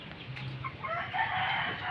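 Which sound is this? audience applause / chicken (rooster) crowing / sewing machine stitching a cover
chicken (rooster) crowing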